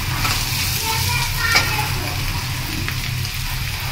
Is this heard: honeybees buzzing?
no